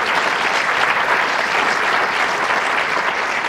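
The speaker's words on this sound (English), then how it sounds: "Please give her a round of applause" Audience at a 2024 State of the County address clapping in a dense, steady round of applause filling a large room, loud and continuous throughout.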